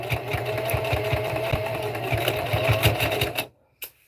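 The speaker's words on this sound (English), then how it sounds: "I want it to be a long top stitch. And I'm going slow," A sewing machine runs steadily at slow speed, top stitching a fabric tote bag with a long stitch, its motor hum carrying a regular needle clatter for about three and a half seconds before stopping, followed by one short click.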